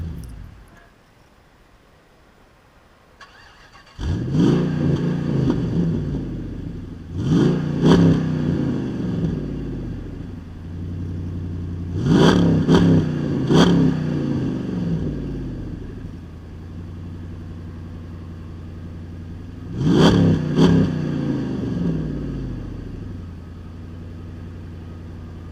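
A Jeep Grand Cherokee SRT8 engine revs hard in four repeated bursts, each roaring up then settling back to a deep, rumbling idle.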